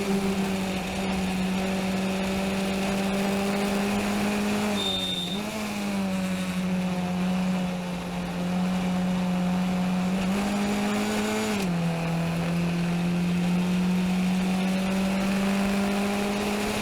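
An onboard race car engine at Mid-Ohio drones steadily and loud at fairly low revs, dipping briefly twice as gears shift in a slow corner, then holding an even pitch with no voices.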